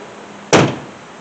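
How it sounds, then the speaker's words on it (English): A Ford F150 truck door shuts with a single solid slam about halfway through, loud and close, after near-silence and with a short ringing decay. "Let's make sure the door still closes."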